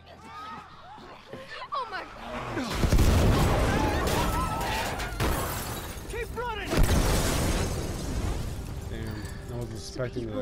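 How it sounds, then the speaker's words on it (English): Loud shattering blasts and crashing explosions from The Last of Us on Grounded difficulty burst out close, with sustained rumbling debris and a second big hit midway, while a person talks over the game audio. "Expecting the explosions in my ear."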